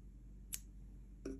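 Two faint, quick snips of scissors cutting a crochet yarn end, isolated clicks over a quiet room hum.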